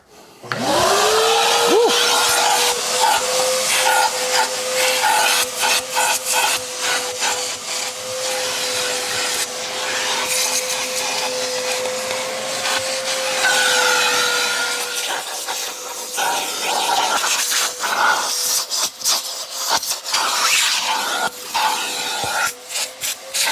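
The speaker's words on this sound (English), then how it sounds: "I'm gonna use my new Father's Day present, which is this DeWalt shop vac" A DeWalt shop vacuum roars steadily with a sustained whine, its tone shifting slightly as the hose scrapes and rubs against surfaces throughout.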